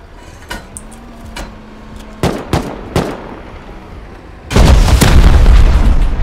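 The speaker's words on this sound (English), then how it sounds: "We're getting shot." Gunfire in the video game Rust cracks out in several sharp, separate shots, followed by a loud sustained burst of rapid fire near the end.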